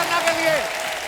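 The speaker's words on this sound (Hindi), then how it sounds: "जोरदार तालियां अन्ना के लिए।" Brief burst of studio audience applause on The Kapil Sharma Show, a Hindi comedy talk show, for the guest host; dense clapping under a speaking voice.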